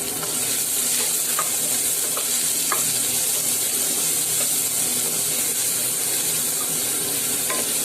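Onion and curry leaves are sautéed for a South Indian soup, giving a loud, unbroken sizzling hiss with faint scraping stirs underneath. No voices are heard.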